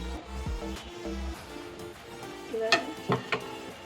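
Prawns frying in a pan with salt and turmeric for a coconut prawn malai curry: a quiet, low sizzle broken by stirring scrapes and a few sharp utensil clinks against the pan near the end.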